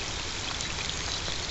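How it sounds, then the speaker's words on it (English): Rain falls steadily outdoors as a dense, even hiss of drops and trickling water with no pauses and no voices over it. "Yep, it's raining."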